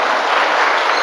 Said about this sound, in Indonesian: sekali lagi tepuk tangan dong untuk Pak Ustadz Evi Effendi